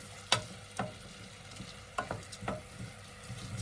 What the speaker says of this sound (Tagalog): Kinigisa ko muna ang rice.